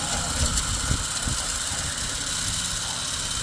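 A homemade box fan built from a K-Mart bicycle rim, running in rural Virginia, gives a steady droning hum with a low mechanical rumble and a constant airy wash, close and continuous with no talk.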